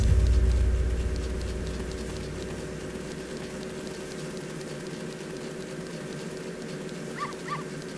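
A dog in the market of the video game Zelda: Ocarina of Time gives two short, quick barks near the end, over a steady hum of background game ambience.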